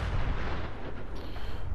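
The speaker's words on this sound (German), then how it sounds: "Da explodieren schon wieder Sachen." Explosions in the video game Fallout 4 roll out as a dense, continuous low rumble with heavy booming bass that stays loud across the whole short stretch, with no speech over it.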